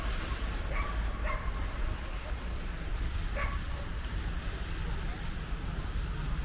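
Dogs bark and yip at a dog park during a New York City snowstorm, a few short scattered barks at a distance under steady outdoor background noise.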